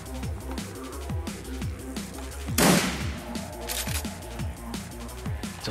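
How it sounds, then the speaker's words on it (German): Bursts of gunfire from the video game Shadowrun Returns crack repeatedly over a rhythmic music-like background, with one louder, sustained blast near the middle. "Also gleich noch ein paar Schüsse hier."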